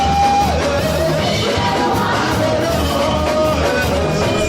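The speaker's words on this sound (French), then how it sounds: "Joie, dans ces cris d'allégresse" Crowd of worshippers shouting and yelling for joy at a special Sunday evangelical church service in Bingerville, a dense, loud, continuous roar of voices throughout.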